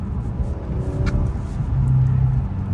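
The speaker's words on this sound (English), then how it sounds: "I don't know how the exhaust sounds on my phone, but pretty loud from my point of view" Low steady exhaust rumble from a Mercedes-Benz driving at night, heard from inside the cabin as a continuous droning hum with no talk.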